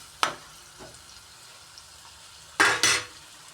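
Frying in a pan for chicken curry, quiet background with a sharp stirring scrape early on and two louder bursts of sizzling and scraping near the end.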